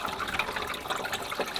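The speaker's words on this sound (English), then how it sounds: "That's water hitting our collection, comes through this pipe, goes down in there to a tank." Water pouring from a pipe into a collection tank, a continuous hollow splashing gush heard fairly close and alone.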